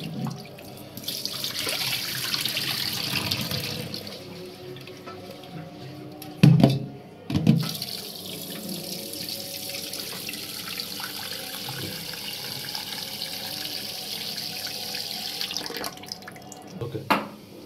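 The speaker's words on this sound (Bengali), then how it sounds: "এখানে মাংস ধোয়া হচ্ছে।" Meat is washed under a running kitchen tap for a Bangladeshi kala bhuna: a close, steady stream of splashing water with brief louder surges and interruptions partway through.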